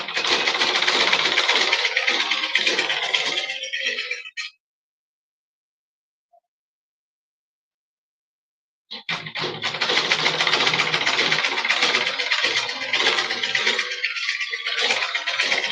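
A sewing machine stitches the lining of an off-shoulder Ankara short gown in loud, rapid rattling runs, stopping for several seconds of silence before starting again.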